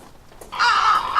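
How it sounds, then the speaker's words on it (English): A group of crows caws in the video game The Last Door, with a soft rustle followed by loud, harsh, drawn-out calls close by. "A murder of crows is eagerly eating something."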